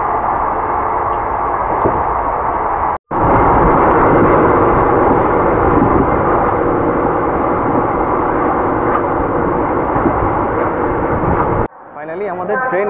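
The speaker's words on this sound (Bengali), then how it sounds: "মানে আমাদের হাওড়া কালকা মেল এসে পৌঁছালো হচ্ছে মির্জাপুর জংশন" The Howrah Kalka Mail train pulls into Mirzapur Junction with a loud, steady rumble that lasts about nine seconds. The roar breaks once, briefly, then cuts off abruptly, and faint background voices may sit beneath it.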